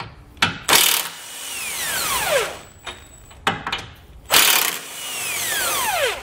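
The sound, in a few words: ratchet with 18 mm socket loosening a tow hook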